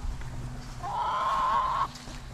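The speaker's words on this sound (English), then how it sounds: "I hear your goats calling you." A single drawn-out bleat, like a goat calling, rises for about a second from a short distance over a quiet outdoor background.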